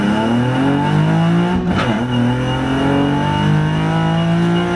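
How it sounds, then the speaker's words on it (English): A car pulling hard in first or second gear, its engine revving loud and rising steadily, with a brief dip partway through before it keeps climbing, close by with no talking. "let's do a first gear or second gear pull and see if the torque is there"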